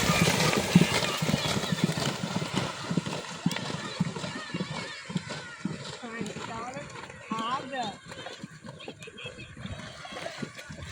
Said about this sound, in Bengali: রকেটের গতি দিয়ে ঘোড়া ছুটছে